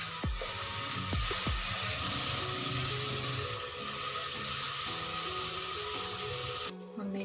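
Eggplant pieces frying in oil over medium to low heat, giving a steady loud sizzle throughout, with a few soft knocks near the start and a brief pause just before the end.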